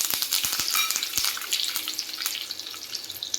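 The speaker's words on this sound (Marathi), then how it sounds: "फोडणी छान तयार झाली आहे" Mustard seeds, cumin, asafoetida and curry leaves sizzling and crackling in hot oil for a tempering, a continuous frying hiss with sharp pops and spatters, close and fairly loud with no voices.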